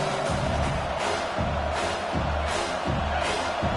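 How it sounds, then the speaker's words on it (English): A football stadium crowd roars on third down in a steady, dense wall of noise that swells in waves, loud and continuous throughout. "Decibels rising as the crowd gets behind this defense on 3rd down."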